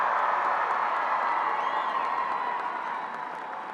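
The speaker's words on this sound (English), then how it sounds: "there's going to be lots of applause during this, so keep it up." High school graduation ceremony crowd applauding and cheering, a broad wash of clapping with scattered whoops from a large audience, tapering slightly toward the end.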